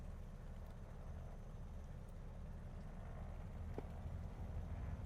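Twin radial engines of a Beechcraft Model 18 idle together at 1000 RPM in the MSFS 2020 flight simulator, a steady low rumbling drone that holds at even loudness throughout, with no voices.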